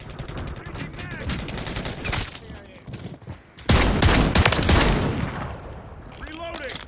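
Gunfire in Call of Duty Modern Warfare III, including Franchi SPAS-12 shotgun blasts: dense, loud bursts of shots and echoing reports, heaviest in the second half, with brief quieter gaps between volleys.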